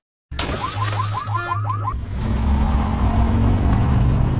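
A car window shatters in one sharp burst of breaking glass at night outside a quiet nightclub, with a car engine and a rising whir continuing afterward.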